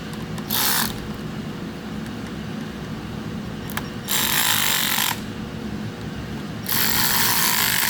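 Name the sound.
tightening M10 bolts with a socket wrench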